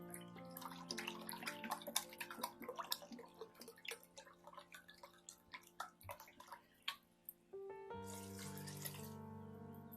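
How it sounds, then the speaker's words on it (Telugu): Water poured from a cup into a cooking pot of Telangana boti (goat tripe) curry, giving a close, trickling splash with bubbling drips that pause briefly and then resume, with no talk. "రెండు కప్పుల మీద ఇంకా కొన్ని వాటర్ అయితే పోస్తున్నా."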